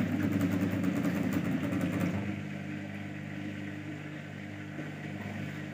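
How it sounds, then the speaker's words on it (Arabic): Motor of an LG automatic washing machine with a suspected faulty motor sensor running close by, a steady droning hum that is louder for two seconds, then settles into a quieter continuous whir. "الصوت ده كده جاي من عند الموتور"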